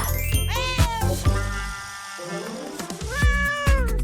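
Video game cat meowing loudly and repeatedly in short, close, bright calls, with a few drawn-out wails in between.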